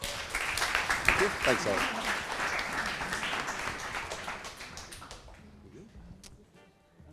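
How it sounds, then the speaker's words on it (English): A hackathon workshop audience applauds a speaker with a dense burst of clapping that fades out over several seconds, and someone briefly speaks near the start. "Please, round of applause"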